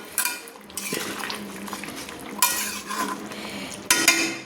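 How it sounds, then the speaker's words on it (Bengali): A silver carp fish curry with drumstick pods being stirred gently in a pot over a low flame, with close metal scraping and clinking strokes in uneven bursts over a faint simmer, no talk. "দিয়ে একটু ভালো করে হালকা হালকা আমি নেড়ে নিলাম"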